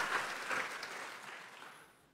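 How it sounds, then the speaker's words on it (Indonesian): Applause from a church congregation during a sermon, a brief swell of clapping that starts fairly strong and then gradually fades away. "Beri tepuk tangan bagi Tuhan Yesus."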